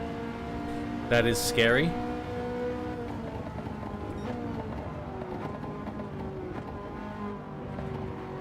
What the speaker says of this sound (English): I can still hear that F12.